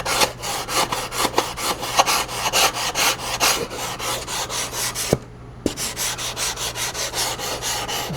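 Hand sanding shapes the wingtip of a Great Planes Patriot RC airplane build, producing a steady, close, rhythmic rasping scrape in repeated strokes with a brief pause near the end.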